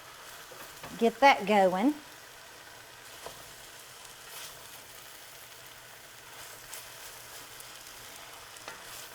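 Ground meat for ragu bolognese sizzles softly in the bottom of a pan, a faint steady hiss with occasional small taps after a short spoken remark at the start.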